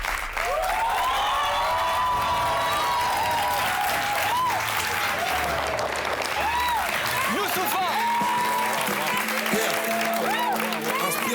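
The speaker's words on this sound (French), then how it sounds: "Je vous demande d'applaudir notre invité" A studio audience at a televised singing competition's master class applauds loudly and continuously for the guest, with scattered cheers and a voice speaking over the clapping.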